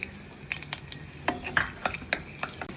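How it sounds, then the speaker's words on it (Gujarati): Garlic sautés in hot oil in a kadai, giving a soft, close sizzle broken by a few quick scrapes and taps of stirring over a few seconds, with no talking. "હવે આપણે થોડું લસણ સાતરીશું અંદર."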